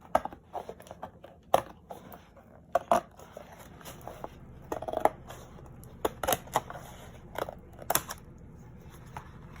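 Scissors cutting a paper strip, giving a series of quiet, irregular snips and crisp clicks spread across a faint background.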